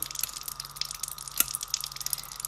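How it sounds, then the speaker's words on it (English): A gentle stream of water rinses iodine stain off a microscope slide during Gram staining, a steady soft trickle and splatter with a faint hum underneath. "we're going to gently rinse off the iodine"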